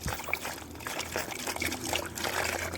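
Water runs from a hose into a dog's pond, a continuous splashing trickle with small bubbly bursts, close and fairly quiet, with no voices.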